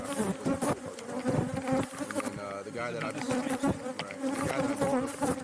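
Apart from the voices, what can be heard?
bees buzzing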